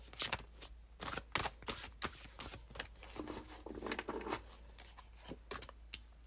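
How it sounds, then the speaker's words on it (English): Stiff, oversized tarot cards are shuffled repeatedly, a close, dense series of slaps and riffles with brief pauses, no talking over it. "These cards are so big. We're trying to shuffle."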